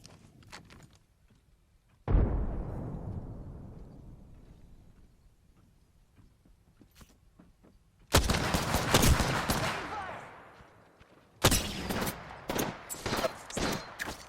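A grenade goes off in Apex Legends with a sharp, loud boom that rumbles and fades over several seconds, followed by two heavy bursts of close gunfire separated by a short lull.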